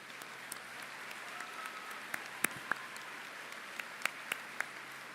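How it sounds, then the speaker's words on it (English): Quiet, distant applause at a graduation ceremony honoring graduates' families, a soft clapping texture with a few sharper individual claps popping out over a hall's low background. "So a big applause to them."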